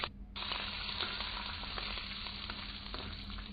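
Spices crackle and sizzle in hot oil in a pan for a dosa chutney, a dense, steady frying hiss heard close up and alone, with a brief quieter moment at the start.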